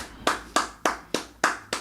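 Six sharp hand claps in a steady, evenly spaced rhythm, each close and crisp with a short decay, with no voices.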